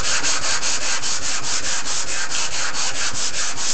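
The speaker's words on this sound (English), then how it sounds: "I can do a new piece of sandpaper in the block" Sandpaper wrapped on a block rubbed back and forth over a surface to sand out scratches, a loud, close, evenly rhythmic scratching of about four strokes per second with no voices.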